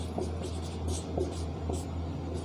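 A Hindi letter is written on a board in quick, faint scratching strokes repeated several times over a steady low hum, with no voices.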